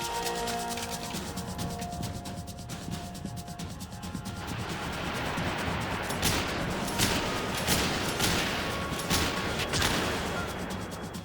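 Gunfire in the video game Max Payne 3, a dense rattling fusillade of shots building over a low background score, moderately loud throughout with no clear talking.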